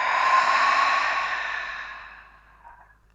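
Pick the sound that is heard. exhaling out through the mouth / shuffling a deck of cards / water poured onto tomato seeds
exhaling out through the mouth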